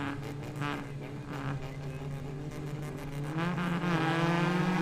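Race cars launch from the start at Katukurunda circuit in 2021, engines snarling together and rising in pitch as the pack accelerates and grows louder toward the end.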